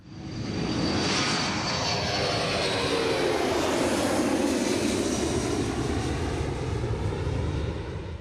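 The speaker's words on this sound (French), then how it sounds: "Dernière vérification pour l'équipage du C-135, le tanker est bon, décollage." C-135 military tanker aircraft taking off: a loud, continuous jet engine roar builds quickly and holds steady throughout, with a slow sweeping shift in tone as the aircraft accelerates and moves.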